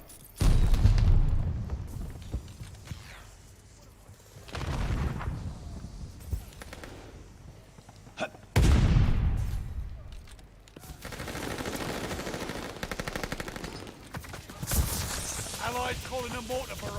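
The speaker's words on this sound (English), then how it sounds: "Allies calling a mortar barrage." Mortar barrage in Call of Duty Vanguard, with repeated heavy booms and rumbling blasts in several waves, some close and loud, mixed with gunfire and faint game voice callouts.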